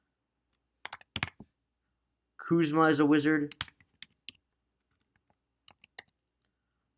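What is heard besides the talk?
typing on a computer keyboard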